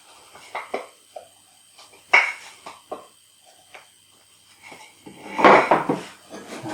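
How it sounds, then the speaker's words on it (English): A marking gauge scores a line all around a piece of wood, giving short, scattered scratching strokes and light clicks, some sharp and close, others faint. "So I've got a marking gauge, and I'll just set that to about 1/4 inch. We'll go all the way around."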